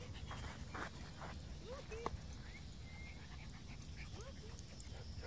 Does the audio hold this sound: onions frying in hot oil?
no